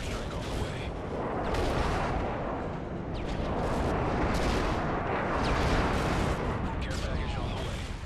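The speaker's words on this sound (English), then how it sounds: "Delta airstrike on the way." Video game airstrike explosions boom and rumble continuously, with dense layered blasts and bursts of gunfire rolling through the whole stretch at high intensity.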